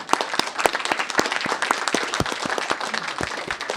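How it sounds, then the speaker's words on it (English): A conference audience claps after a policy panel discussion, loud, close and busy, with many distinct hand claps over a continuous rattle that holds steady throughout. "Please join me in a round of applause for our speakers."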